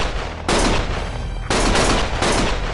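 Sustained video game gunfire in three heavy bursts, each a loud dense roar of rapid shots separated by short quieter gaps.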